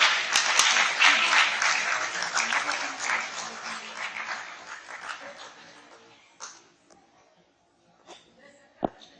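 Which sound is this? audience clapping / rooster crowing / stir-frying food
audience clapping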